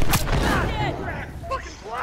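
Close gunfire in a multiplayer shooter on a wharf, a few sharp cracks and booms in quick succession over a noisy game backdrop with voices.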